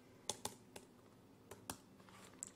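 Scattered keystrokes on a computer keyboard while an email address is typed into a web form, about eight distinct taps spaced unevenly, close but faint against a quiet room.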